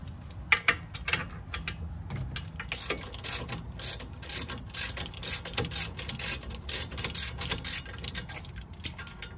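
A ratchet wrench loosens the wheel bearing bolts on a Mazda CX-5, making quick, close clicking bursts in repeated runs, with brief pauses between strokes and no talking.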